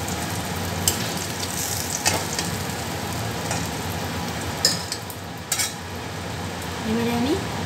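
Fish heads fry in oil, reddening in a steady loud sizzle, with scattered spatters and light clinks of a utensil against the pan.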